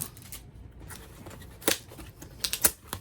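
Tape on a play button package is cut open, giving a few quiet, scattered scraping and snipping sounds with sharper clicks toward the end.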